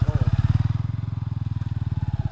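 Trail motorcycle engine idling and pulsing steadily on a steep mountain trail, a close, loud, even throb with no talk over it.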